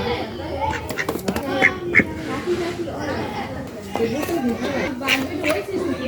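Ducks quack in short nasal bursts amid lively chatter and talking voices, the calls rising and falling near the listener.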